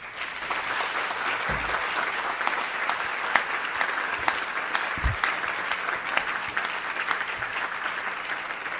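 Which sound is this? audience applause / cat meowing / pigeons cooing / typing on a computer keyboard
audience applause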